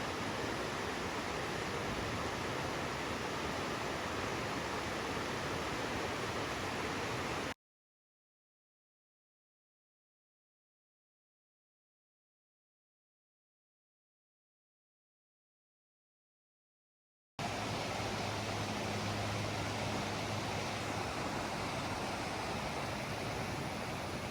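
Creek water in the Angeles Forest of Southern California runs in a steady, full rushing wash, then drops out into a long stretch of silence before the same flow resumes.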